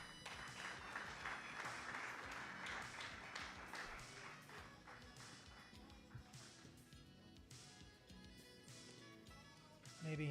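Applause from a conference audience after thanks to a prison official, steady dense clapping through the whole stretch, with a little talk mixed in and a louder burst at the very end.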